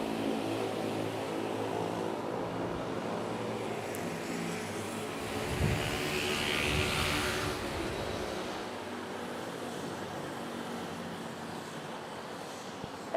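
An aircraft at Manila Airport gives a broad, distant roar that swells and fades over several seconds, under a steady background wash with no talking.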